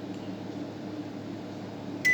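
A microwave oven runs with a steady, even hum throughout, and a short electronic beep sounds right at the end.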